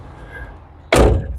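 A 1966 Chevrolet Impala car door slams shut once, a single loud, close, solid thud that stands out sharply from quiet background and decays quickly.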